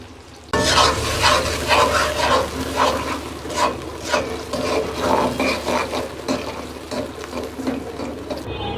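Mustard oil heating in a pan suddenly flares into a loud, close sizzle with bubbling crackle that keeps going steadily, with no voices over it.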